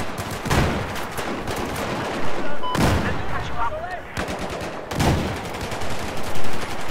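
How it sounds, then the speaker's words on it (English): Mortar rounds and gunfire in Battlefield 4 go off in repeated loud bursts, with sharp blasts rising out of a dense, continuous crackle of combat. "All his mortar shots are hitting that fucking building in front of him."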